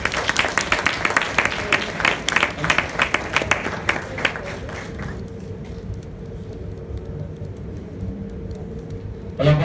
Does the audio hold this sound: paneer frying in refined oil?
no